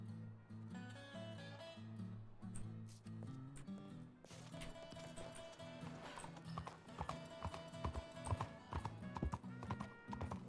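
A horse's hooves clop in a RedM Red Dead roleplay game session, their rhythmic footfalls running throughout over a loud, steady droning music bed, with occasional sharper hits toward the end.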